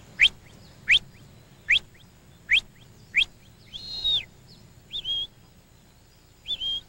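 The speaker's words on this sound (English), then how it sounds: "Whistle to follow on." In the Scottish highlands a shepherd whistles a border collie to follow on: five sharp rising chirps in a steady rhythm, then a longer held warble and two shorter held tones, loud and close over a quiet background.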